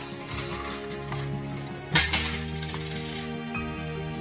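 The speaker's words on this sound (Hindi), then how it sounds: "वो सबसे पहले इन 10 ग्लासेस में कॉइन्स डालेंगे" Coins drop one after another into a row of glasses during a timed one-minute game, giving bright metallic clinks and jingles, with a sharp louder cluster of clinks near the middle.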